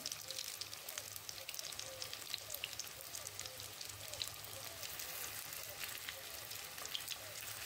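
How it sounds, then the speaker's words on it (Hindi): Snacks fry in refined oil over a low flame, giving a soft, even bubbling sizzle that carries on steadily at low volume. "धीमे आंच पर इनको फ्राई करना है एक साइड से"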